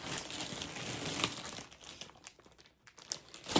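A bag of plastic eggs is handled and crinkled, with continuous rustling and crackling close to the mic that fades briefly before a few sharper crinkles.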